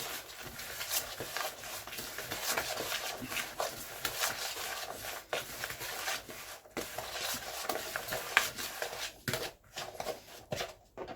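Coriander powder, whole jeera and salt get stirred in a pan, giving a continuous soft scraping and rubbing with faint sizzle and scattered clicks of a spoon against metal, close by and without speech.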